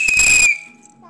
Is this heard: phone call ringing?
no